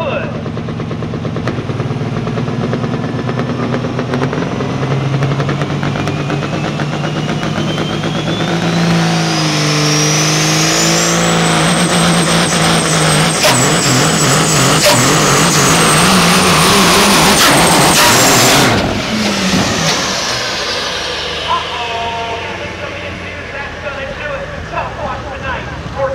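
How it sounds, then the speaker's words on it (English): A 1978 Peterbilt truck with a Caterpillar 3406 engine runs loud and close, its deep rumble building under a long climbing whine that holds high before dropping off, then settling back to a rough steady roar with voices talking over it. "'78 Peterbilt, we're ready to rock the boat. Get out of the way. It's called Sneaky Pete's, a Caterpillar 3406 engine under the hood."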